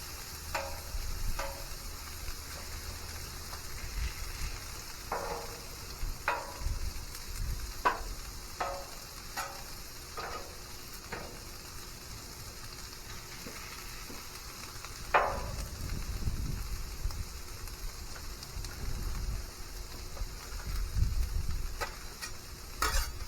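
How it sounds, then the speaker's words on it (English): Corn kernels frying in bacon fat in a pan, a faint steady sizzle broken by scattered sharp pops and ticks, plus occasional soft stirring scrapes, with no talking. "Get that corn all spread out and cooking good."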